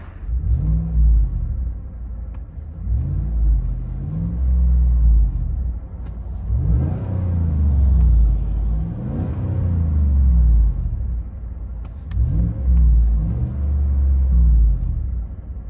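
Deep, rumbling V8 exhaust of a Chevy Silverado High Country with a 6.2L engine and Flowmaster exhaust, heard from inside the cab as a low drone that swells in several repeated revs, steady and unaccompanied by voices.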